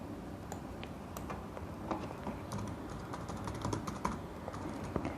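Steady typing on a computer keyboard while entering chart and axis labels in an Excel spreadsheet, with quick irregular key clicks running throughout at close range and no talking.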